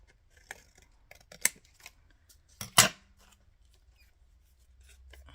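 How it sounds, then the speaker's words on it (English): Scissors trimming paper for a handmade tag ephemera holder give a few crisp, close snips, with two louder cuts amid quiet rustling and handling of paper. "just need to trim it up so it sits, there's no white showing"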